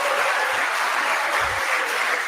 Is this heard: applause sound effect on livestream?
yes